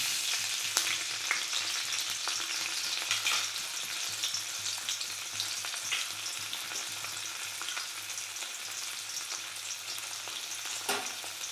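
Prawns seasoned with salt and turmeric fry in hot white oil in a karahi, a loud, continuous close sizzle with faint stirring scrapes and a few sharp crackles, no voices.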